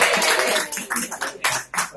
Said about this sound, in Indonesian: Dan tepuk tangan dulu dong teman-teman.